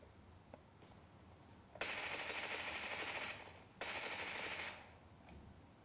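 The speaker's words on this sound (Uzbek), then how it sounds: "Kelinglar bir otishma qilaylik o'zigina." Rapid automatic gunfire from PUBG Mobile played on a Samsung Galaxy A56 phone, two sustained bursts of fast, even shots, each lasting over a second, with faint taps in between.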